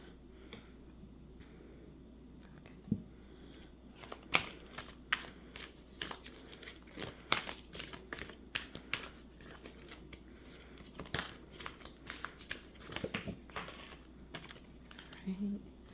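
Cards riffled and shuffled repeatedly in crisp, irregular bursts of flicking and snapping, close by, with a faint low hum underneath.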